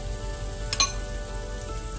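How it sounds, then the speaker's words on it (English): Shrimp frying in a pan with a rice flour coating, a soft steady sizzle with a few brief louder pops, heard close and fairly quiet. "we're going to fry this till our shrimp is done."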